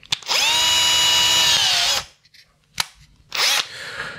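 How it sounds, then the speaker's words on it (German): A power drill with a 1 mm bit bores through a small part for a model-vehicle charging station, giving a loud, close whine of about two seconds, a tiny click, then a second brief burst. "Jetzt fahren wir einmal kurz hier mit dem 1 mm Bohrer durch und einmal hier."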